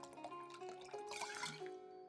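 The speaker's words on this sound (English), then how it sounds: "if I pour too fast, I'm filling up too fast, and then I fail" A drink poured from a bottle into a glass in the card game Card Shark, a short, fairly quiet trickle of liquid with small splashes and drips.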